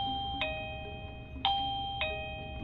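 Chime of a Mubview J7 smart video doorbell after its bell button is pressed: three bright, ringing electronic tones at uneven intervals, close and clear over a quiet room.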